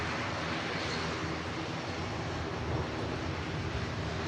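TUI airliner departing Manchester Airport for Orlando, a steady distant jet roar with broad rushing noise and wind buffeting, continuous and even throughout with no talk.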